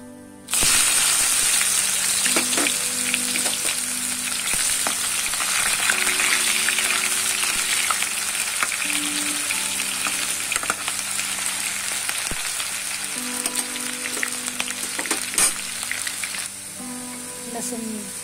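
Sliced onion hits a hot pan and sizzles loudly and steadily close by, with a gushing hiss that fades slowly over time and occasional stirring clinks and background sounds.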